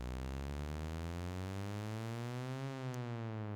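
A synth riser built from two saw waves without FM: a buzzy, harmonically dense tone that sweeps steadily upward, loud and alone, and slightly levels off near the end.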